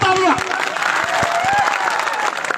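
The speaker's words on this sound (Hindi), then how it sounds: "इसलिए उनके लिए बजाओ तालियां" Crowd clapping at a Rana Punja Bhil birth anniversary gathering of Adivasi people, steady dense applause throughout with voices and cheering mixed in beneath.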